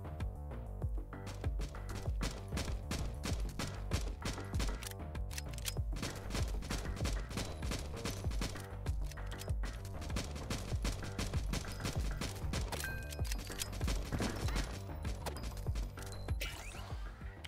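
Rapid, continuous pistol gunfire from a survivor video game fills the whole stretch, dense shots layered over busy game sounds at steady loudness.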